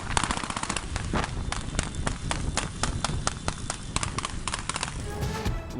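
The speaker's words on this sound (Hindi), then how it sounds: "मौलाना शौकत अली रोड पर सरेआम फायरिंग, उधम मचाए रखा।" Rapid bursts of gunfire ring out on an open city road, caught by a street surveillance camera, with sharp cracks repeating in quick irregular volleys throughout.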